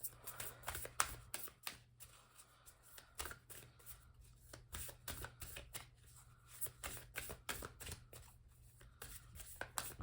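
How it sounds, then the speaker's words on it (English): Tarot cards are shuffled in quick, rhythmic riffles and soft slaps, close but quiet, continuing steadily for several seconds with brief pauses. "I'm just going to go ahead and do one more big shuffle"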